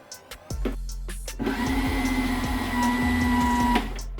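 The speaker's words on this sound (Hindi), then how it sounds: "अब इसे ब्लेंड करेंगे।" An electric blender whirs up and runs steadily, grinding lentil batter for dahi bara after a couple of soft clicks, loud and close, alone without talk.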